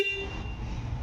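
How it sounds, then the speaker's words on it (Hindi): A brief Bajaj Pulsar NS400 motorcycle horn toot at the very start, fading quickly into a steady low engine rumble. "हॉर्नटा भी भल अच्छी"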